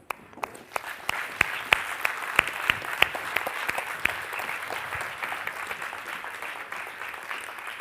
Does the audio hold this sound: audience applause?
yes